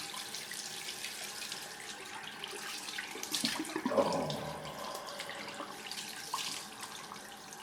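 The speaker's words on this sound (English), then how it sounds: "And let's run some cold water." Cold water runs from a tap into a bathroom sink, a steady hiss and splash that swells briefly mid-way, close and fairly quiet, with a short exclamation from a man.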